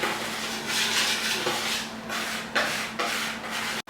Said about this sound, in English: you'll need a whisker and you're going to whisk it all around